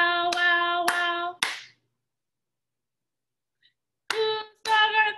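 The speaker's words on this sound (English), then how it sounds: "I'm gonna clap this time." Hands clap a steady beat in a first-grade music lesson, three crisp claps spaced evenly, a pause of silence, then two more claps alongside a singing voice with harmonic tones.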